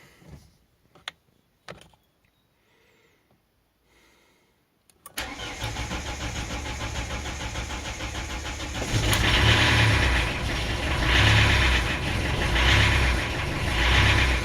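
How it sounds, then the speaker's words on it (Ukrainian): Fiat car engine starting after repair: a few clicks and quiet rustles, then the starter catches and the engine fires into a steady close idle that swells in surging rises and falls. "як ми зараз все побачимо, як він запускається, чи він взагалі запускається"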